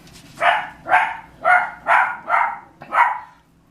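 A dog barks six times in a steady rhythm, each bark sharp and fairly close, with nothing else around it.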